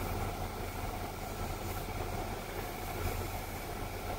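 Constant low mechanical hum and drone of large Trane rooftop chiller units running steadily at a mall, with no pauses or changes.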